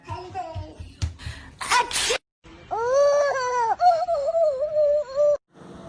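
A person sneezes once sharply amid other short vocal noises, followed by a wavering, moaning, whimper-like vocal sound, close up with brief silent gaps.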